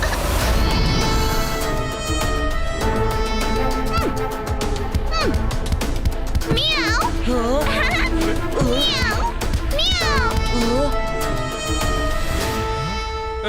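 Cartoon cat meowing in a children's animated episode about a cat magician: repeated drawn-out, rising and falling meow-like cries over busy background music, with children's voices talking throughout.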